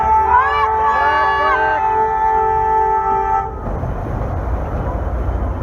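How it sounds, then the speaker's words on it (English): A Boston amphibious tour vehicle sounds its horn: a loud, steady, close blast with a wavering tone lasting about three seconds. It stops abruptly, leaving engine rumble and road noise. "She's going to honk the horn."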